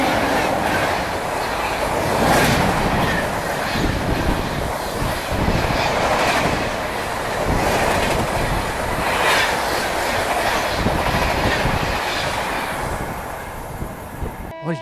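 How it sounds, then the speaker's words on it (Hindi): Darbhanga–New Delhi special train passing alongside another special train, a continuous close rumble of wheels with rhythmic clickety-clack and faint squeal, fading near the end. "ये देखिए, दरभंगा नई दिल्ली स्पेशल, एक स्पेशल ट्रेन जो है स्पेशल ट्रेन को ओवरटेक कर रही है"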